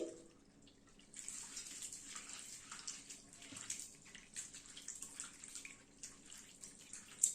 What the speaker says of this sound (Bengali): জল দিয়ে ধুয়ে নিচ্ছি।